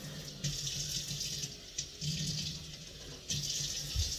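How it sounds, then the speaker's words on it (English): Water pouring in short bursts into a skillet, half a cup at a time, with splashing runs starting and stopping several times, fairly quiet and close. "I'm going to put a half a cup of water."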